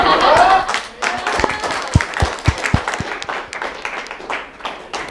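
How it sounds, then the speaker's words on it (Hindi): Scattered audience clapping at a television astrology show, a few distinct claps ringing out alongside voices, thinning toward the end. "हो जाए तालियां"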